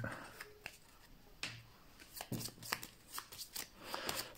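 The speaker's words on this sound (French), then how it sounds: "Et mélanger mes cartes Gold Oblivion ici même." Goldblivion game cards being shuffled by hand at a table, with quiet riffles and taps coming in short irregular bursts, faint and close, with no one talking.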